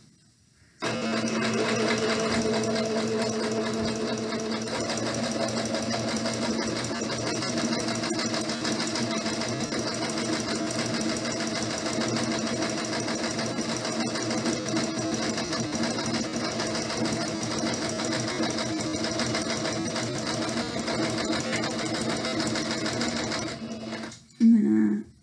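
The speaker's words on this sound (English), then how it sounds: "I'm going to put my fingers on each side of my presser foot here, back stitch, forward, and I get to the end, I'm going to back stitch" A sewing machine stitches a cotton pillowcase in a steady, loud mechanical whir that runs almost unbroken for over twenty seconds, with back stitching at the start and end before it stops with a brief clunk.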